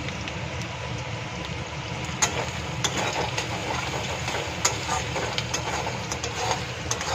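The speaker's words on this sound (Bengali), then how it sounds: "পেঁয়াজটা দেখো হালকা ভাজা হয়ে গেছে, লাল লাল" Onions fry gently in a wok of oil with nigella seeds and salt, a soft, steady hiss with occasional faint clinks of a stirring spoon, quiet and unaccompanied by talk.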